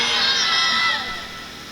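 A crowd at an evening poetry and comedy gathering breaks into loud cheering and shouting in welcome, dense and sustained before easing off toward the end.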